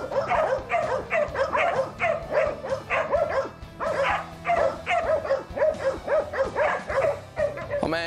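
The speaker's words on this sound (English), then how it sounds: "The dogs are all pumped up. They're trying to keep this pig at bay." Hunting dogs bark and yip repeatedly in an excited, rapid rhythm while holding a 300 lb wild hog at bay in a ravine near Daytona, fairly close and steady throughout.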